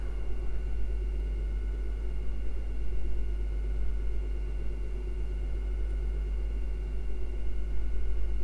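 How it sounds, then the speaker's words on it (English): A washing machine on its spin cycle gives a steady low rumble and droning hum with a faint high whine, continuous and unchanging. "it's just my washing machine firing up a spin cycle."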